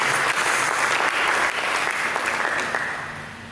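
A church congregation applauds in praise of Jesus during a Sunday sermon, a full, sustained round of clapping that holds steady and then slowly tapers off near the end.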